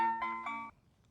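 A Hosmart driveway alarm receiver chimes indoors: a short, clear electronic tone with two quick pulses, ringing out alone for under a second before fading into quiet.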